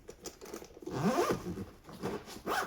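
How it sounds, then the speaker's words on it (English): A Husky tool backpack zipper is drawn shut in a few close, rasping pulls with short pauses between them, loud and near with no talking. "and then I zip it up a little bit"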